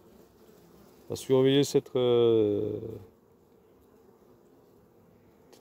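A hornet flies near a beehive, giving a loud, close droning buzz for about two seconds that breaks off briefly before stopping, while a voice speaks and quiet background sound continues.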